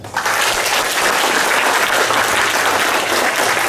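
Loud, full applause from an audience at a declamation competition swells up quickly after a Hindi speech and holds steady and dense throughout.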